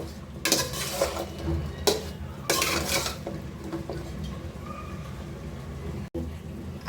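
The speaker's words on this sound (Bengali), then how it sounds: "এর মধ্যে আমি কেটে রাখা সিম আলু বেগুনটা দিয়ে দিলাম দিয়ে কিছুক্ষণের জন্য বেগুনকে কষিয়ে নেব" Cut flat beans, potato and eggplant are fried in a pan, with loud bursts of sizzling and clattering utensil scrapes early on, settling into a quieter steady frying hiss.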